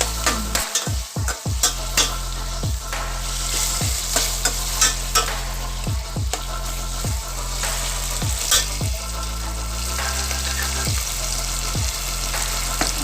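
Black bean sauce and chilies stir-fry in a hot pan, a continuous close sizzle punctuated by repeated scraping strokes and knocks of a utensil working the mixture.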